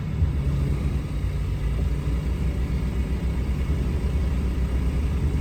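Roll-off dumpster truck idling and working as its winch lets out before it drives forward, a steady low engine rumble and whir holding level and close throughout with no voices.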